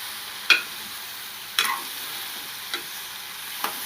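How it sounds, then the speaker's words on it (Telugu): Bottle gourd curry is stirred in a pan, four sharp scraping knocks of a spoon spaced about a second apart over a faint, low background hiss, close by. "ఇంకా కలిపేస్తున్నాను"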